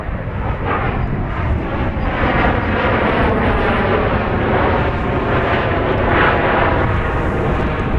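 At Dallas Love Field, an airplane on the runway roars loud and close with a continuous broadband jet engine noise that holds steady throughout, no voices heard.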